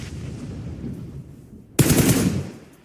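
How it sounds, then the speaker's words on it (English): Automatic gunfire in the battle royale mobile game PUBG Mobile during a competitive match, a fast rattling burst that fades briefly, then a louder sudden volley of rapid shots. "Good shots from Aggressor"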